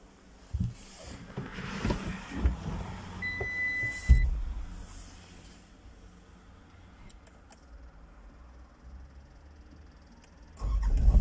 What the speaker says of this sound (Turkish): makinemizi çalıştırdık. Biraz ısınsın makinemiz.